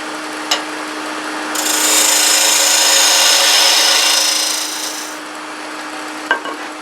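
A skew chisel cuts into a spinning wooden box on a lathe, giving a steady, close scraping hiss that swells for a few seconds and then eases back to the lathe's hum, with two short taps.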